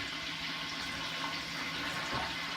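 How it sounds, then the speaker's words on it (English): A splash of water hisses into a hot pan of roasted red peppers, a steady sizzling wash that lasts throughout. "You're going to add a touch of water, a touch."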